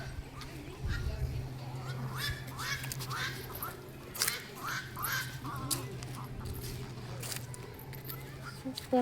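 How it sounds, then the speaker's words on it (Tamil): Swan calls at Arignar Anna Zoological Park in Vandalur ring out in a string of short, honking bursts over steady background hum, with people talking nearby throughout. "அன்னப்பறவை"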